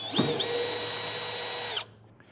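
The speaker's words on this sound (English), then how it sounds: "you're going to go ahead and drill the pilot hole down" A power drill bores a pilot hole for a B&W Patriot fifth wheel trailer hitch in a 2014 Ford F-250: a single loud, steady high whine that spins up, holds for under two seconds, then cuts off.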